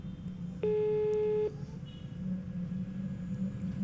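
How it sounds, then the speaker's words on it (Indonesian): A single steady telephone call tone sounds for under a second over a low background hum, as a caller rings back in an Indonesian radio drama. "Aku coba nelpon balik."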